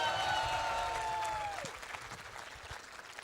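An audience claps and applauds at a cadet college farewell night in 2011; the dense clapping starts loud and fades over about three seconds, with a brief descending tone near the start.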